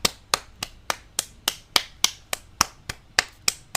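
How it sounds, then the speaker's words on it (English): A single person claps their hands about a dozen times in a quick, even rhythm, each clap sharp and close, with nothing else heard between them. "I'm applauding Fantasia Barrino"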